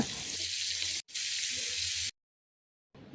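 Cleaned shrimp sizzle and crackle in a hot pan, a steady close frying hiss broken by a short gap before cutting off into silence.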